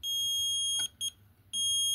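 A multimeter on continuity setting gives a steady high electronic beep, cuts off briefly with a couple of short clicks, then resumes at the same pitch, while testing an HVAC contactor coil.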